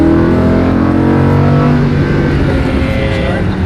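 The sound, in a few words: sports car accelerating on a race track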